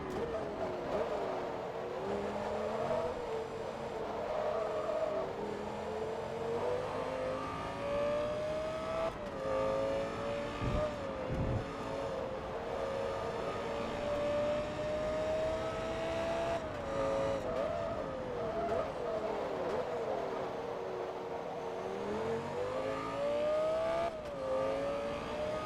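Race car in Forza Motorsport 2 from the Italian Masters Championship, engine droning steadily at high revs with rising and falling pitch through gear changes, loud and continuous throughout with no talk.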